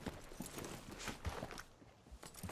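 Horse hooves clip-clopping in the open-world Western game Red Dead Redemption 2, a string of soft, uneven steps at moderate distance with a heavier thud near the end, no talking over it.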